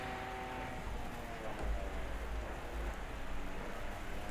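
Rain falls on wet roads in The Crew racing game, a faint, steady hiss of drops with a low car engine rumble underneath, continuous and distant.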